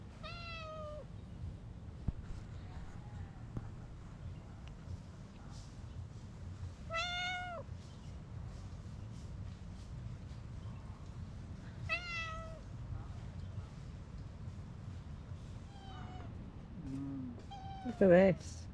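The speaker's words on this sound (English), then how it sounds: "we've got a little kitty cat trying to eat the food" A cat on Gili Air island, Indonesia, meows several times in short, plaintive calls spaced a few seconds apart, with a louder, closer meow at the end over faint background noise.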